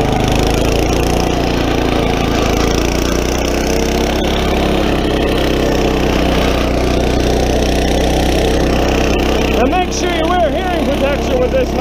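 A Troy-Bilt Horse rototiller engine runs steadily while tilling soil, a loud continuous droning rumble with a constant low hum and no pauses, and a person talks over it.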